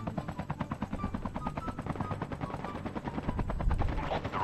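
Rapid rhythmic bursts of gunfire in COD Mobile battle royale, thudding and repeating like automatic weapons, loud and continuous.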